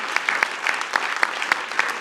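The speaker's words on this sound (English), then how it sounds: "Give yourselves a round of applause" Town hall audience applause at an event on race and mass incarceration. Brisk, dense clapping from a crowd, heard at moderate distance and continuous through the short stretch.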